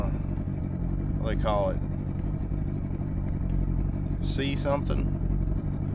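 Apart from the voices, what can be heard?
boat engine idling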